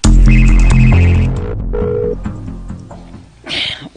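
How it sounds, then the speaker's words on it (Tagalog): A phone rings with an incoming call, a loud melodic ringtone of repeating tones that fades after a few seconds, followed by a short rustling burst. "Nanawag na sad ay."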